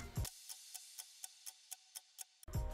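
Filtered drum loop for a future house track: a steady run of crisp, thin hi-hat ticks about four per second, quiet and treble-heavy, framed by a deep kick thump at the start and at the end.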